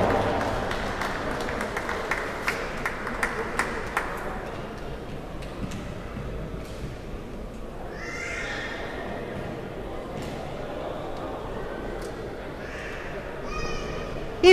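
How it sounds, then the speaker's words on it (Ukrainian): Audience applause at a boxing awards ceremony in Kropyvnytskyi for the silver medalist of the 60 kg final, a diffuse crowd wash with scattered claps over a murmuring hall, fading to a low background hum later on. "Наші оплески срібному призеру."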